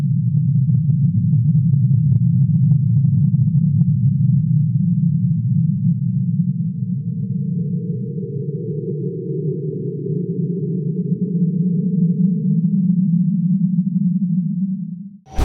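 Sonification of dark matter separating from merging galaxies: a continuous low, droning electronic hum with a warbling, distorted texture, sustained at steady loudness for about fifteen seconds before cutting off abruptly.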